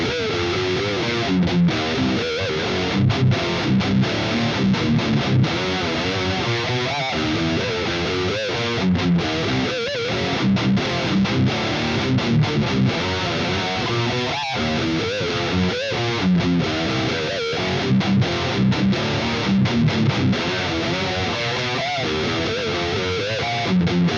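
Heavily distorted electric guitar in drop C plays a minor pentatonic lick with chromatic passing tones and pinch harmonics. Busy riffing runs steadily and loud the whole time, alone with no voices.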